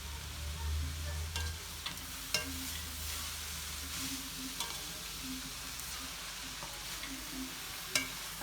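Chicken is stirred into ginger-garlic paste frying in a pan, giving a low steady sizzle broken by several sharp spoon scrapes and taps against the pan.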